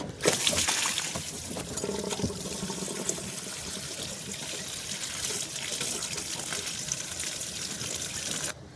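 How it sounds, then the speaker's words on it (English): Coolant drains out of the bottom radiator hose of a Subaru Legacy, a steady close splashing trickle that pours continuously and evenly through the whole stretch. "I'm going to take the bottom hose off the radiator and let that drain out"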